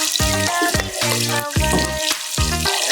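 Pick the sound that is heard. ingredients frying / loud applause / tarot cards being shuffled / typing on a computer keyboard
ingredients frying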